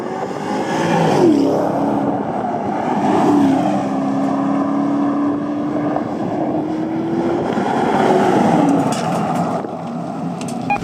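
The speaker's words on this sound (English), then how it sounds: "we were able to actually do some just quick accelerations to show you what this thing sounds like when you drive it in anger" A 2019 BMW X7 in sport mode accelerating hard, its engine rising in pitch through repeated pulls with gear changes, loud and steady over road noise, heard from inside without talk.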